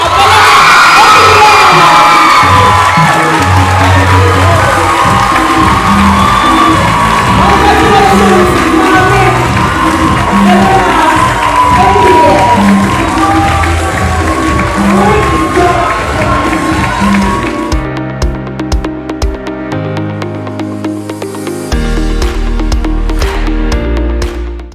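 A large crowd at a youth debate grand finale cheers and shouts continuously for the winner, with whoops and clapping mixed in, loud and sustained throughout.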